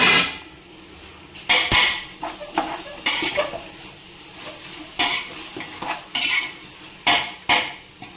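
A biryani masala of tomato, mint, coriander, chili and curd is stirred in a pan: sharp, repeated metal spoon scrapes and clanks against the pan in irregular bursts over a soft, low sizzle.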